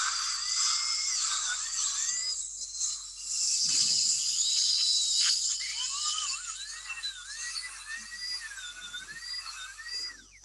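A dental drill trims a metal casting for a single-piece denture base, giving a continuous high-pitched whine that wavers and shifts in pitch as it cuts, with no talking.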